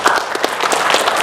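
Audience at a community earthquake-preparedness session clapping for a presenter, a short burst of dense, steady applause from a small indoor crowd.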